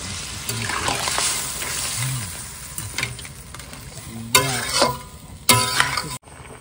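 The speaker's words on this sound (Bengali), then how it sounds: "এবার জল দিয়ে দেবো।" Water goes into a pan of crab curry, a sizzling, bubbling splash over ongoing frying with stirring clatter, bursts of hiss rising and falling, and a faint voice in the background.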